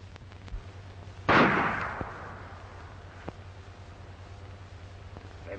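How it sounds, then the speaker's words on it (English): A single sharp gunshot in a 1936 western film rings out loudly and fades into a short echo, followed by a couple of faint, distant pops over a low, steady hum. "They've stopped firing."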